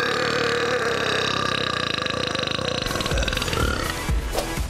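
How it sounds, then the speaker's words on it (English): A loud champion burp, one long, deep, rattling eructation drawn out for several seconds, sounding close and forceful, with its rough pulsing growing choppier toward the end. "As I feel it rise, I sort of open my throat and just let rip."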